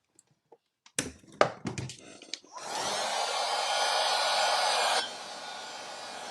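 A hair dryer blows steadily on a resin craft piece for a cigar box project, switching on after a few handling knocks and clatters, then dropping to a lower setting near the end.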